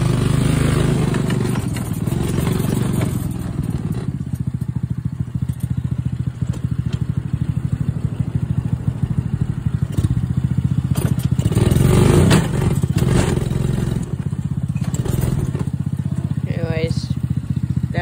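A brand-new X-Pro Rover 125cc go-kart engine runs steadily at half throttle, a loud, continuous low motor drone with occasional clatter and thumps, close by, with a voice briefly audible over it.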